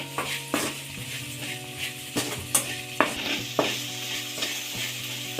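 Okra fry with turmeric being stirred in a pan: a steady sizzle runs beneath repeated scraping and clinking strokes of a spoon against the pan, loud and close, with no voices.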